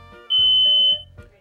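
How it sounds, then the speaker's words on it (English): A home smoke detector sounds one loud, high electronic beep for about half a second, close by, amid quiet room noise. "when the smoke detector sounds, get out of the bed and crawl on the floor to the door"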